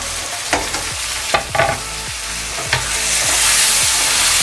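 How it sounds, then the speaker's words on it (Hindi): Meat frying with tomatoes, onion, garlic and ginger for lauki gosht, a steady close sizzle with several sharp clinks and scrapes of a spoon stirring the pan, the frying growing louder toward the end, no talking. "टमाटर के साथ मैं गोश्त को अच्छी तरह से भून रही हूँ।"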